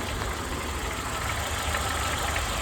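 A steady, even idle of a 2009 Dacia Sandero 1.4 MPI engine rumbles close by, a constant low drone with no speech over it.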